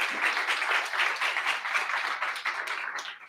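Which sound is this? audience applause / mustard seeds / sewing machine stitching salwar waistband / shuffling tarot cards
audience applause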